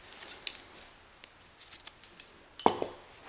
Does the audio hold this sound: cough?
no